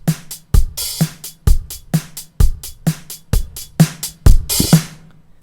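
Unprocessed drum track from a GarageBand session, dry and without overdrive, a steady pattern of crisp kick and snare hits alternating at an even tempo with sharp attacks and quick decays, heard alone.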